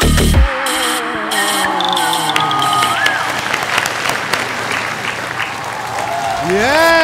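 Loud applause with scattered cheering fills a large venue after a dance troupe performs with a pop singer at a stage show. Near constant clapping runs throughout, with amplified voices or music tones rising at the start and near the end.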